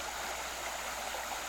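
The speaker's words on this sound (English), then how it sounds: "It is a light and graceful stream that is trickling over fallen branches." A small forest stream trickles over fallen branches with a steady, close, gentle rush of running water and no voices.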